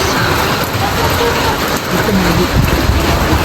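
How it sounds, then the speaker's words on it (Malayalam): Heavy rain near Kodanad in the Ooty hills pours steadily in a dense, unbroken hiss, close and loud, with no voices. "നല്ല മഴയാണ്"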